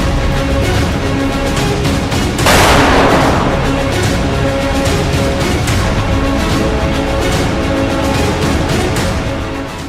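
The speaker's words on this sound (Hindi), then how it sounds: "एक जगह तो एक रूसी टैंक जंगल की तरफ से दनादन गोले बरसाता दिखाई दिया।" Russian tank shelling near Kharkiv, a loud sustained roar of battle noise with one heavy blast bursting out partway through, continuous rumble and crackle before and after.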